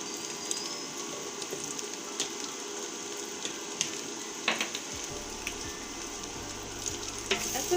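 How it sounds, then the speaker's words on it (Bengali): Spices and ginger stirred in a sizzling pot of beef biryani, a steady bed of frying crackle with soft scraping stirs and small clinks throughout, close and fairly quiet. "এখন খুব সুন্দর করে এটাকে নাড়াচাড়া দিচ্ছি। দিয়ে দিচ্ছি আদা"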